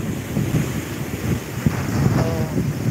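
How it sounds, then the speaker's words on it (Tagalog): Strong storm-surge waves crash against the shore at Tagas Boulevard in Bicol, a dense, continuous roar of surf and gusting wind buffeting the microphone, loud and close. "Ayan naman ang lakas po ng tubig."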